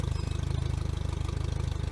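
An outboard motor on a Quintrex 450 Fishabout Pro runs at idle while being flushed with water, a steady rapid low throb with a fast even pulse, close and constant throughout.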